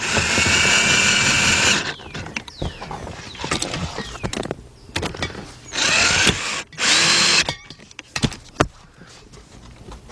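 A power tool with a 14mm shallow socket tightens bolts during fuel pump replacement on an Infiniti G20 or Nissan Altima, whirring loudly in three bursts with clanks and rattles of handling between them.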